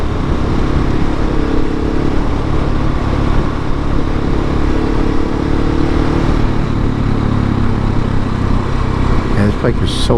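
A 2019 KTM 690 SMCR motorcycle engine drones loudly and steadily while riding, a continuous close roar with wind noise throughout.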